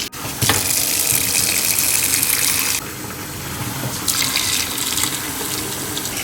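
Warm water gushes steadily from a tap into the clean-water tank of a Narwal T10 robot mop in a kitchen, a loud continuous rush whose tone shifts as the tank fills.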